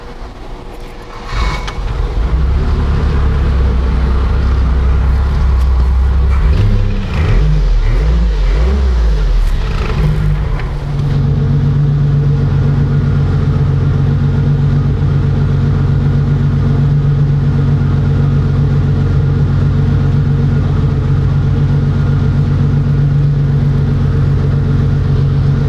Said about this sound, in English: a 19-foot Baretta boat with a V6 motor in it that runs nicely